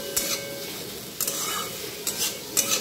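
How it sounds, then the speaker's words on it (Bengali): Onion frying in a pan, a steady sizzle broken by several sharp scraping stirs of a spatula against the metal at irregular intervals, close up and without speech. "এটা শুধু পেঁয়াজ দিয়েই ভাজবো।"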